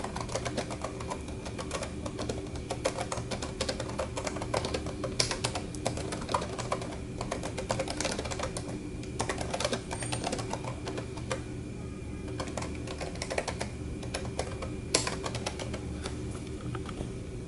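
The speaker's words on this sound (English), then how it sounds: "The keyboard, on the other hand, is exceptional and very nice to type on." Steady, close typing on an IBM ThinkPad 380XD laptop keyboard, quick irregular clicks running throughout, no voices, over a faint constant background hum.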